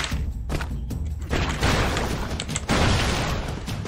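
Explosions in Broforce, a string of loud thumping blasts and crackling debris close together, with no voices.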